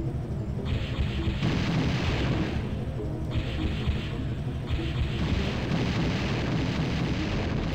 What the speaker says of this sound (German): Und ich knall mich gleich selber mit dem Torpedo ab.